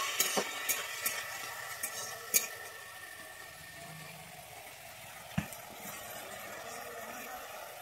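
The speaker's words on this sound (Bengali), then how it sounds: "আমি এবারে দিয়ে দিচ্ছি সামান্য একটু জল, যাতে মশলা থেকে তেলটা এবারে বেরিয়ে আসে" A little water goes into cooked-down spice paste for a Bengali rohu fish and potato curry, giving a soft sizzle and scraping stirs, with a few sharp spoon clacks early on and another near the end.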